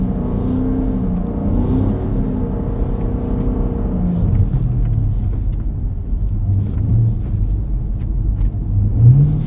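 A 2024 Cadillac CT5-V Blackwing accelerating on a snowy highway, a deep engine rumble rising and shifting as it gains speed, steady and close from inside the car.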